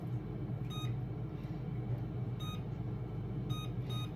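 A home kitchen oven gives short electronic beep alerts, a pair near the start and more toward the end, clear and tonal over a steady low hum of room noise.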